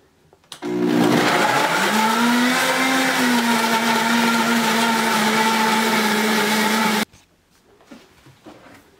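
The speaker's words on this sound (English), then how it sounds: "now I've added my onion to the blender." A kitchen blender chopping onion with oil for seasoning, starting abruptly and running as a loud, steady whirring roar for about six seconds before cutting off into quiet room noise.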